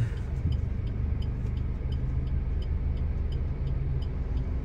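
A car's low engine rumble idles and creeps along as it squeezes into a narrow lane between film studios, a steady close drone lasting several seconds with no speech over it.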